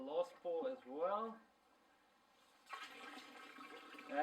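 Rinse water pours out of a drum that held molasses for home rum making, a steady loud gush that comes after a short stretch of speech and runs to the end.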